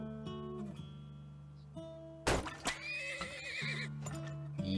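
Horse wagon in the indie PC game Turmoil, a sharp burst of neighing and whinnying over a looping synthesized game tune with steady plodding clip-clop, fairly quiet and with no talking.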